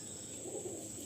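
Pigeons of butterfly and red eagle breeds coo softly and faintly in a low, continuous murmur, with a steady high-pitched hum running underneath throughout.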